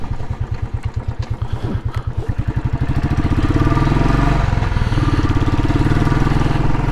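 A Royal Enfield Classic 500 single-cylinder motorcycle engine thumps steadily, its beat quickening and growing louder as the bike pulls away and rides on in winter.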